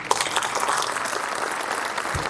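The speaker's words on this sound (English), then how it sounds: "A huge round of applause for that melodious rendition." An audience at a school Founders Day celebration on a riverside campus claps together in a short, even burst of broad, hissing applause that holds steady at a fairly close distance.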